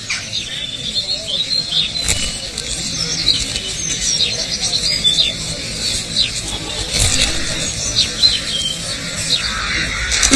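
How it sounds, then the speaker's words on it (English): Rooks and jackdaws call around busy garden tea rooms, with scattered high chirps and caws over a steady outdoor murmur and occasional scraping noises. "Made welcome in particular by the rooks and jackdaws."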